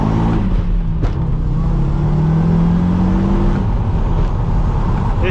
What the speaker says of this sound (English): The van drives.